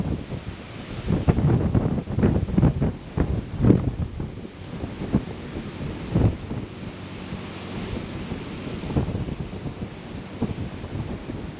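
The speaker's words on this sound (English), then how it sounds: "this wind is whipping" Strong coastal wind buffets the microphone during a sheepshead fishing trip on a windy day, a constant roaring rush with gusty thumps and surf-like noise throughout.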